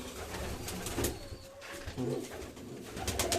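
Pigeons cooing nearby, soft repeated throaty calls over a noisy outdoor background with scattered rustles and knocks.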